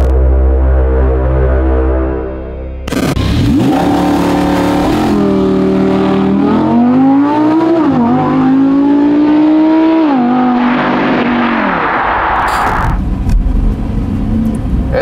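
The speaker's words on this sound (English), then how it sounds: "And let's start our cruise with the Audi R8 Spider in the new generation." A 2017 Audi R8 Spyder with its 540 hp V10 starts with a low idle, then revs up hard and pulls through rising gears, the loud engine note climbing and dropping close by with no talk.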